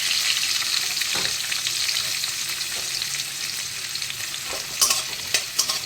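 Onion frying with whole spices (cinnamon and cardamom) in a pan for mushroom masala: a constant close hiss of frying with occasional scrapes, and several sharper spatula knocks near the end, no talking.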